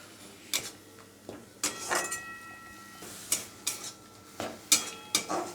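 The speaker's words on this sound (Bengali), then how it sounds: "এবার এটাকে একটু ক্রমাগত নাড়িয়ে নিতে হবে যতক্ষণ না জলটা শুকিয়ে যায়।" Mulo bata, a radish paste, is stirred in a pan while its water cooks off, with a series of close, rhythmic metal scrapes and clinks against the pan.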